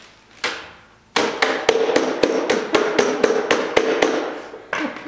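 A hammer strikes repeatedly during a 1972 Triumph GT6 restoration, one sharp blow and then a steady rhythmic series of close, ringing knocks with no talking.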